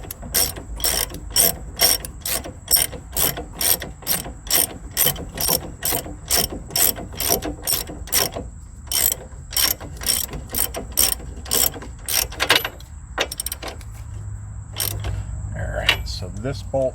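A ratchet tightens a bolt on a car's front strut assembly, giving rapid, loud, regular clicking bursts in quick strokes, pausing briefly before a few final clicks.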